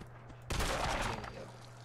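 A gunshot in Fallout 4 cracks out with a sharp broadband burst, then trails off in a brief rumbling decay over a steady low hum.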